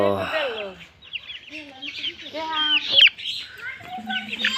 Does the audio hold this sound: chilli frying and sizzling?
no